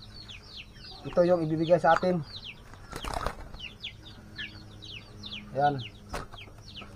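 An alimukon dove clucks in two low throaty bursts, with a sharp flutter of flapping wings between them, close by, while birds chirp steadily behind and a person speaks briefly.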